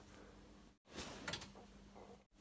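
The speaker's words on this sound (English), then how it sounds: "Why did the door close?" A door in a puppet setting slides or swings shut in one soft, brief movement, a muffled whoosh and light knock framed by abrupt silences, quiet against a faint room hum.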